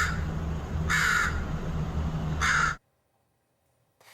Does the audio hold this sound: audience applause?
no